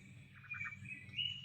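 Tropical birds calling in a lush jungle: faint, thin chirps and a few short whistled calls over a low background hum, with no talk.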